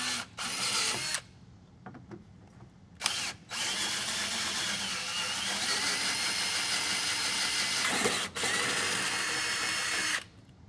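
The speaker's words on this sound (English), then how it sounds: "I'm going to start these with this roto broach bit" A power drill with a rotary broach bit whines steadily at close range, stopping and restarting several times, with long continuous runs of high-pitched cutting noise, during an off-road rocker guard install.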